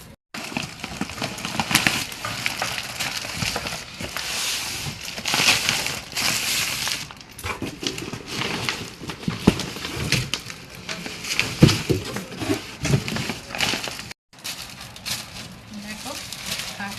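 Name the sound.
cutting open an online parcel of plant fertiliser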